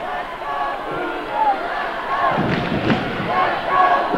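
Crowd cheering for the Cougars in a gym during a girls' basketball game, a dense wash of voices and shouts that swells toward the end with a few thuds, with a commentator talking over it.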